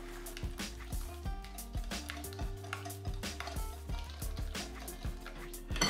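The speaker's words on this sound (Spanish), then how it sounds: "Ahora añadimos nuestra mezcla de zumo. Lo haremos poco a poco, removiendo continuamente." Orange juice mixture being stirred into beaten eggs for orange cream filling: a whisk or spoon scraping and clinking against a bowl in a steady, close rhythm, quiet and alone.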